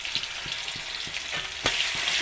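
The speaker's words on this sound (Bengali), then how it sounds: "একটু লাল লাল করে ভেজে নেবো।" Chopped onion frying in oil with panch phoron for a soybean and potato curry, a bright steady sizzle with light repeated stirring taps, one sharper clatter near the end.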